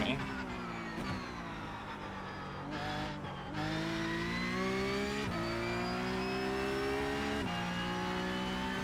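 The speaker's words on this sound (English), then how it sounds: "I'm sitting in the Porsche Cup car here" A Porsche Cup race car in iRacing: a steady, loud engine drone through gear changes, rising in pitch as it revs, with brief dips between shifts.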